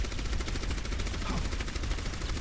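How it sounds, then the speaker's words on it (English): Gunfire from the Overwatch video game rattles in rapid, dense bursts that fill the clip from start to end. "Hold on, she's shooting at the wall right now."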